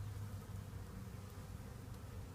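A swarm of honey bees in a Denver backyard farm hums with a steady, close, dense buzzing drone, continuous and even, with no voices over it.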